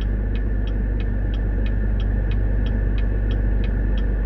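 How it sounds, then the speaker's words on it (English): Steady road traffic rumbles past at 4 o'clock, a continuous low drone of cars and engines with a faint, regular ticking on top, and no voices. "there's a lot of traffic"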